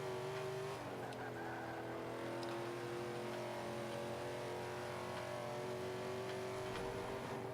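Steady engine drone from a Nissan Sylvia race car in Forza 5, holding a sustained tone with a slight pitch dip early on, heard from the cockpit without talk.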